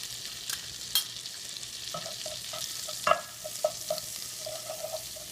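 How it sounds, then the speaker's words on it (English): Quarter teaspoon of cumin seeds roasting in butter, sparse sharp pops and light spoon taps over a quiet background sizzle, close and uninterrupted by voices. "1/4 teaspoon of cumin seeds. Roast them in this butter."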